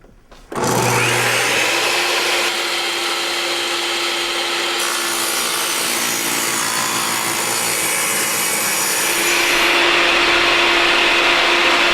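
A table saw rips a cedar 1x6 board into one-inch strips: the motor spins up abruptly, then a loud, continuous close cutting roar with a steady hum runs throughout, rising slightly near the end.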